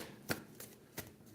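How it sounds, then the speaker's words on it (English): Tarot cards are shuffled by hand in three quick riffles, each a short soft burst of papery flutter, fairly close and faint. "One more shuffle"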